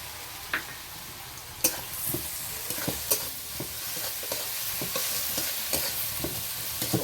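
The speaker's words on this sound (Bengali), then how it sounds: "দেখুন বন্ধুরা, আমার কুচিয়ে রাখা পেঁয়াজটা আমি দিয়ে দিচ্ছি।" Chopped onion hits hot oil in a pan with a small amount of oil, sizzling steadily with intermittent stirring scrapes and clicks of a spoon, close and moderately loud, no voices.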